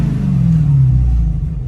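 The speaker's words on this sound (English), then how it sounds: "Now that's a goddamn engine right there." A Dodge Challenger SRT Hellcat Redeye engine runs on a dyno, a loud close low rumble that swells briefly as it revs then settles back, with no talking.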